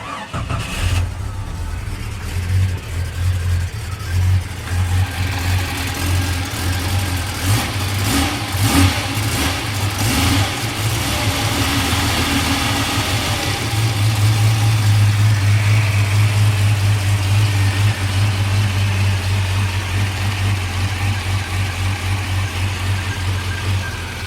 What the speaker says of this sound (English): I'll leave you with one last little shot of the engine running.